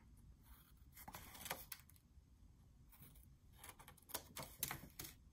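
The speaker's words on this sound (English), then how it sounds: "Same thing, just cut those little corners off." Snips and crisp paper cuts as scissors trim small corners off a paper planner pocket for a traveler's notebook, a few short bursts close by with quiet pauses, no talking.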